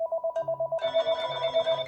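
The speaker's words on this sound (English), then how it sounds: "even including the base station and all the other handsets are ringing" Cordless telephone handsets ring with a rapid warbling electronic trill, joined partway through by the base station and other handsets ringing together, close and clear.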